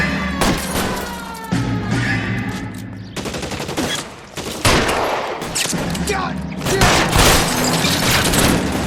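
Covering gunfire in the video game L.A. Noire: dense, loud bursts of rapid shots and booming reports layered into a sustained fusillade, with brief lulls between volleys and some game voices underneath.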